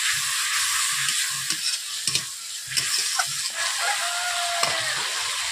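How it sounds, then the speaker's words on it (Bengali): Ground coriander, cumin and other spices sizzle and fry in a pan with a little water while being stirred, giving a constant loud hiss with rhythmic scraping strokes of the spoon close by. "এরপর সামান্য জল দিয়ে এই মশলাগুলোকে ভালোভাবে কষিয়ে নিচ্ছি 2 থেকে 3 মিনিট।"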